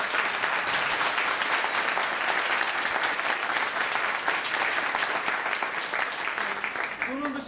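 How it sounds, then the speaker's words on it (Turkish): Sustained audience applause for graduating students after a school theatre play, dense and steady clapping from a full room throughout, with no pause. "Öncelikle tabii ki alkışın en büyüğü bu öğrencilere."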